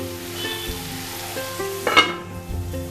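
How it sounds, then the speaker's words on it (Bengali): Spice paste for a raw mango chalta chutney frying and sizzling steadily in a pan, a close, continuous hiss with a brief louder spatter burst midway and faint stirring scrapes. "এই মশলাটার যে কাঁচা গন্ধটা আছে সেটা চলে যাওয়া পর্যন্ত আমি এটাকে একটু কষিয়ে নেব"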